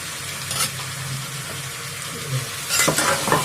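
Mutton sizzles steadily in a pan as it is stirred through masala, a continuous close frying hiss with a few scraping stirs and a busier burst near the end, with no talking.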